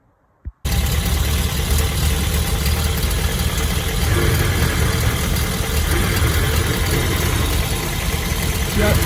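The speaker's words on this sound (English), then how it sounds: "we're going to run the engine, and we're going to see what we got" A Triumph TR7 engine, freshly tuned, starts after a brief click and runs steadily at a loud, close, even idle with no talk over it.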